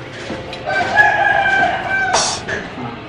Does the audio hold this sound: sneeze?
no